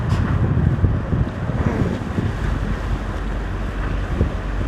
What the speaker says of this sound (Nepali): कस्तो हावा चलेछ, हावा पनि डह्रो चलेछ।